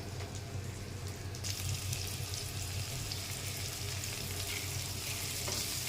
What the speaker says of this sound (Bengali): পেঁপে আলু ভাজা ভাজা হয়ে গেছে।